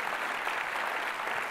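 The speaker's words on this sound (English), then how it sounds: "big clap for the goat from Argentina" An audience at a children's book event claps in a brief, dense, even burst of applause with no talking over it.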